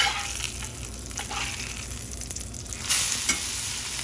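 Pork schnitzel fries in a pan right after being flipped, a busy close sizzle with bursts of spattering and a sharper crackle near the end.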